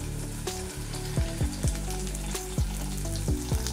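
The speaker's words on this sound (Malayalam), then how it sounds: "ഇഞ്ചിയും വെളുത്തുള്ളിയും ഒന്ന് മൂത്ത് വരുമ്പോഴത്തേക്ക് നമുക്ക് ഈ എടുത്ത് വെച്ച ചെറിയ ഉള്ളിയും പച്ചമുളകും കൂടെ ഒന്ന് ഇട്ട് കൊടുക്കാം." Shallots and green chillies frying with ginger and garlic for a Kerala-style spicy sardine curry make a steady, loud sizzle, with sharp clattering stirs against the pan at an uneven rhythm.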